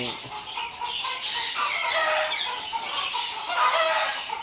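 Several chickens cluck and squawk nearby in a busy, overlapping chorus, with a few sharper calls standing out.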